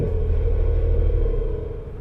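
A Porsche 911 engine rumbles low and steady at the start of a drive, close and continuous, fading slightly at the end.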